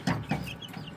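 Tiny two-month-old Serama chickens, a very small bird-like breed, give two quick soft clucks close by, followed by faint quieter chirps.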